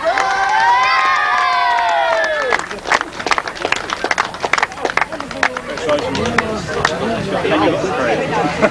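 A crowd at a 1997 grasstrack race meeting cheers and shouts loudly, while an announcer's voice carries over the noise throughout.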